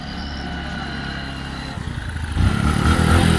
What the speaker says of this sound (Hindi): तो फिर हम ले रहे हैं नवीन भाई की बाइक, द लग्जरी डिस्कवर